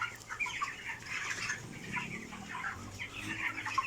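A flock of 24-day-old broiler chickens cluck and chatter continuously on a farm, a dense mid-distance murmur of many birds.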